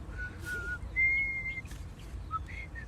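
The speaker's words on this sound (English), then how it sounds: "I was whistling it, actually" A man whistles a tune outdoors, a few thin, wavering notes with short gaps between them over a low background rumble, soft and close.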